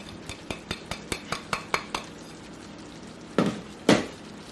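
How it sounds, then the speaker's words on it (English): Ground spices are stirred into frying ground beef and potato. A utensil clinks against the pan in a quick regular series of about ten taps, then two louder scraping strokes follow over a low background hiss. "Mix all the spices very well."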